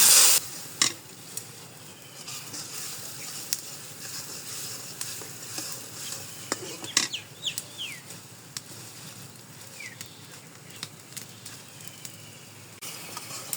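Onions and chili fry in a pan with a soft, continuous sizzle while a spatula stirs them in occasional scraping strokes, close and moderately quiet, with no talking.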